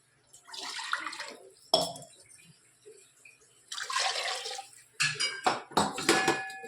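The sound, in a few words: pouring leftover water into a pot while cooking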